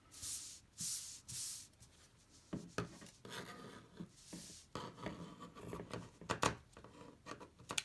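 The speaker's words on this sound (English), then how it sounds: "I'm going to have to use my fussy cut scissors here" Small fussy-cut scissors snip and rasp through fabric in short bursts, close by, with a few quiet pauses between cuts and no talking.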